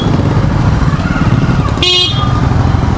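Heavy road traffic in a jam, with motorcycles and cars rumbling close by and a sharp horn blast sounding briefly over the steady engine noise.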